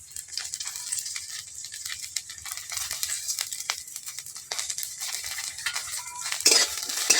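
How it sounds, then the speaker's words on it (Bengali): Whole spices, white and black cumin, fenugreek, fennel and white mustard seeds with garlic cloves, stirred in hot oil in a pan, with light scraping and clinking of a utensil over a soft crackling fry. "অল্প হাতে এটা নাড়তে হবে"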